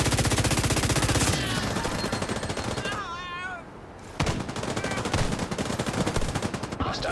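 Rapid automatic gunfire from a sniper turret in The Division 2, dense bursts of shots that break briefly to a quieter gap with electronic chirps before heavy firing resumes, loud and continuous.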